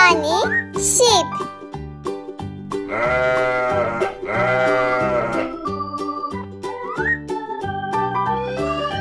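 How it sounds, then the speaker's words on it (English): Cartoon sheep bleats ring out amid a bright, melodic children's tune from an animated Turkish–English animal lesson, with a voice speaking over the music. "Koyun, yani sheep."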